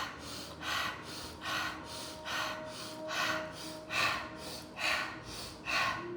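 Breaths during a yoga session come in a steady series of about eight audible, close breathing strokes, each a soft airy rush repeating evenly over a quiet background.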